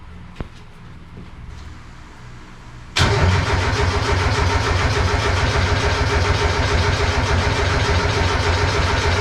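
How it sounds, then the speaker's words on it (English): A Triumph Spitfire fitted with a swapped Mazda MX-5 engine catches on starting fluid after a quiet pause with a few clicks, then settles into a loud, steady, close-up idle. "I was able to get the car just fired off with some starting fluid"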